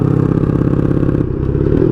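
A 1982 Honda Magna V45 VF750C motorcycle engine warms up after sitting dormant, with a loud, steady close-up rumble of rapid regular firing pulses that shifts slightly partway through. No voices.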